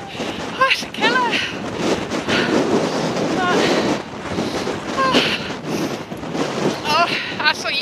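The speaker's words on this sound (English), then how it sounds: "that's what you call flipping, biting wind" Strong, biting wind gusting across a mountain hiking trail in Snowdonia, a loud, continuous buffeting roar against the microphone, with a person's breathless voice breaking in now and then.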